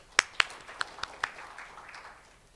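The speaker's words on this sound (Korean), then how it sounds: "하태정 부원장님을 큰 박수로 환영해 주시기를 부탁드립니다" Sparse, scattered clapping from a small forum audience welcoming a presenter at a science and technology policy debate: a handful of distinct sharp claps, a few louder at first, then thinning into faint, trailing patter.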